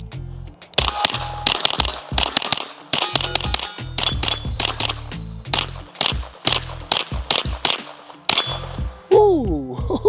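Springfield Armory Kuna 9mm pistol-caliber carbine firing 124 grain rounds at a range: rapid loud shots in quick strings with short pauses, ending in a metallic clatter.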